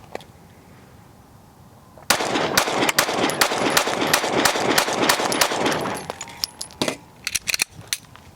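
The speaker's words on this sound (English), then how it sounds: "Happy to be shooting some guns. Stock G45 first." A stock Glock G45 pistol fires a fast, loud string of close shots, then a few more scattered shots after a short pause.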